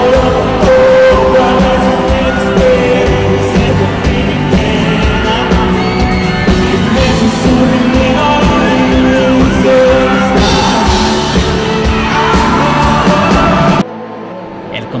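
Thousands of fans at a concert in a packed stadium yell and scream over loud, driving music, making a constant roar that breaks off sharply near the end.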